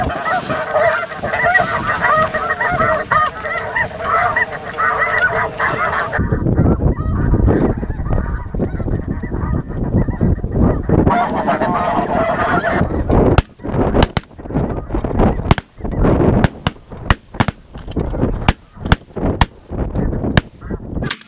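Snow geese honk loudly in a dense, continuous clamor at a hunt over decoys, then sharp shotgun blasts ring out in a rapid irregular volley while the honking thins.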